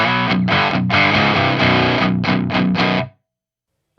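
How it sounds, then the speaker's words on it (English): Electric guitar through a Fortin Fourteen overdrive pedal set to its hex drive circuit, heard alone: a few seconds of choppy, rhythmic overdriven chords ending abruptly, followed by silence. "If I go over to the hex drive circuit, you'll see that it's a much less clipping, much more modern kind of focus sound."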